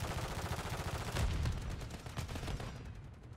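Gunfire in Call of Duty MW3 rattles in fast, continuous bursts throughout, fairly close and steady, with rapid repeated shots and no talk.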